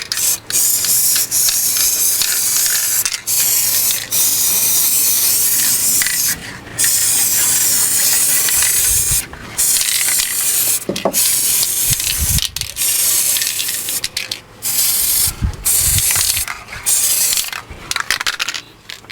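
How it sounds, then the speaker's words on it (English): A final coat of varnish sprayed from a can over a model railway embankment dressed with static grass, giving a loud, steady hiss in long bursts with brief pauses between them. "then a final coat of varnish"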